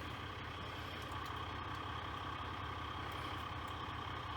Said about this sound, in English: throttle body there, the rattling of the butterfly